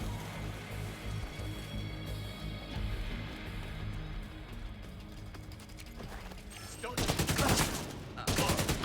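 Rapid AK rifle bursts in the video game The Division 2 come near the end, loud and close, set against a steady drone of background game sound and mechanical clatter.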